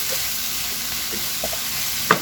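Sweet potato fries in a hot pan with a steady, close sizzle, broken by a few soft stirring scrapes and one sharp clink near the end.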